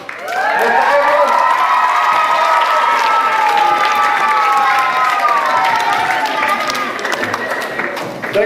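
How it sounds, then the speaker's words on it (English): A school crowd at a 2002 matric event cheers for the principal with loud, sustained shouting and applause. The cheering holds at full strength for several seconds and eases slightly near the end. "a special cheer for our principal, Mr. Edward."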